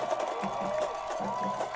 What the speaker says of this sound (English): Let's hear this crowd.